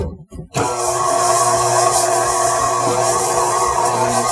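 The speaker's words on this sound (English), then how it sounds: "We're just going to mix it on low speed here." An electric mixer starts up and runs at low speed, beating butter and sugar for oatmeal scotchies, giving a close, steady motor whir with a faint rhythmic churn.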